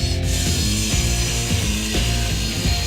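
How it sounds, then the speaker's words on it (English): A table saw whines steadily while cutting a wooden board, with a repeating rhythmic rasp about every half second, loud and close, no voices. "I measure and cut the bottom of our stool using the table saw."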